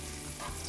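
Zucchini slices fry in a pan with a dense, steady sizzle, close and continuous, with no voices over it.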